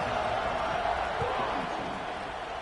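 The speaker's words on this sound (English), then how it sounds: "And this crowd is buzzing after that last score." Stadium crowd in the football video game College Football 26, a dense, loud, continuous roar and buzz of many voices filling the space after a score, with no single voice standing out.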